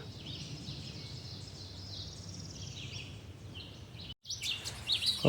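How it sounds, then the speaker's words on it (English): Birds call and chirp in the Little River Natural Area, a steady chorus of distant chirps over outdoor ambience, then brief louder nearby calls and rustling after a short break. "you can just take in the birds here"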